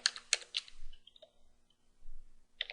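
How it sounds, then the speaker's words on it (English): A few brisk keystrokes on a computer keyboard, typing a Linux package command, come in short clustered bursts at the start and again at the end, with a quiet gap between. "Let's type in gbrainy"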